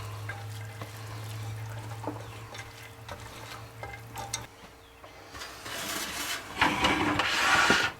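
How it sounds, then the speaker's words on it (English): Brown rice, black beans and shredded Swiss cheese are stirred together in a bowl with soft scraping and squelching. A steady low hum fades partway through, and louder rustling mixing sounds build toward the end, with no talk. "We're just going to mix it all together."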